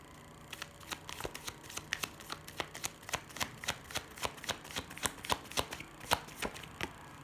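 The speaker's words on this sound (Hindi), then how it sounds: "मैं शफल कर रही हूँ" Tarot cards riffled and shuffled by hand, a quick series of crisp snapping flicks in an irregular rhythm, close and fairly quiet, with no talk.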